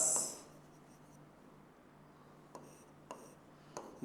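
Pen or marker writing on a classroom board, with a few soft scratchy strokes and sharp taps against a quiet room.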